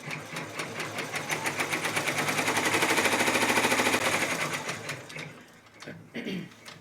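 Brother PR1055 multi-needle embroidery machine stitching a placement line, a fast steady mechanical rattle and clatter that swells then eases, ending with a brief shift of movement.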